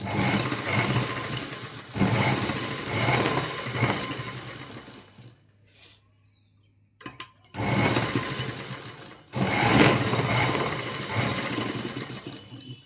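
A sewing machine stitches the shoulder seams of a small baby frock in long continuous runs of rapid needle chatter, with a short quiet gap and a few clicks in the middle before it starts again, close and clear.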